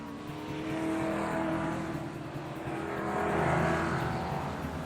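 A Renault 8 Gordini race car's engine drones steadily in competition, a loud continuous motor hum that swells slightly toward the end, with no talk.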